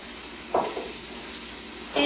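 Onion slices hit hot canola oil in a pan over medium-high heat, giving a steady frying sizzle with two louder hissing bursts as the onion drops in and is stirred.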